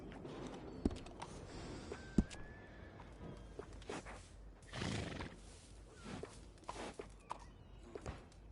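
A skinny horse in a PS4 video game whinnies with a rising tone over soft clip-clop of hooves and scattered thuds, quiet and close, with no talk over it.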